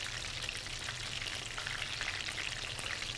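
Chicken tenders bubble and sizzle in hot oil in a pan, a dense, steady crackling fry that stays close and even throughout with no voices.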